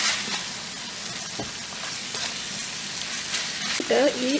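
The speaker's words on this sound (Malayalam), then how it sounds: "ഇതൊന്ന് സോട്ടേ ചെയ്യാം." Chicken stew base being sautéed with garam masala crackles in a hot pan, a loud, continuous sizzle with scattered pops and a few scrapes of a stirring spoon, heard alone throughout.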